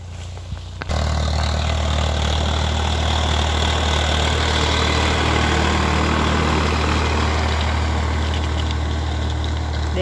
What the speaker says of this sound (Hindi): देख सकते हो ट्रैक्टर चल रहा है एरोप्लेन इतनी स्पीड से।